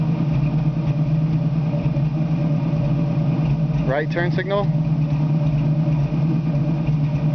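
A 1967 Ford Mustang engine idles with a steady, low, continuous rumble, close by, while someone speaks briefly over it.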